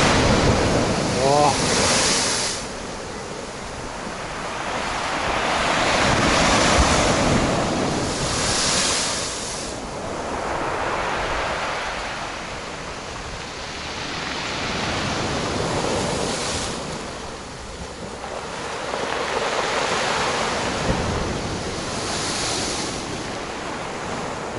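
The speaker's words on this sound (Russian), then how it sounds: "Вот это волны." Storm waves roll in and crash heavily on a beach at Flamingo, surging in repeated swells every few seconds under strong, gusting wind that buffets the microphone.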